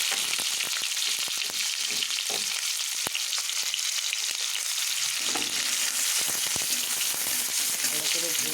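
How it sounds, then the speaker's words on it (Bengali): Dried red chillies and chopped onion sizzle in hot oil for a Bengali thali, a loud continuous frying hiss with occasional spatula stirs and clinks, no talk over it. "তেল গরম হয়ে গেছে, এবার আমি শুকনো লঙ্কা দিয়ে দিব"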